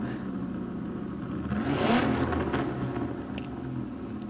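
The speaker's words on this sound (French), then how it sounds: "je suppose qu'on est sûrement sur un V12" A Ferrari 250 GT Berlinetta V12 engine revs in the GT Sport racing game, a steady mid-pitched drone that swells to a louder rev near the middle before settling back.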